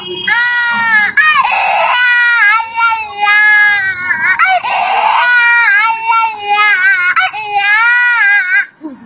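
A toy baby doll cries in a loud, continuous wail of repeated rising and falling sobs, with two brief pauses, close and alone with no talk over it.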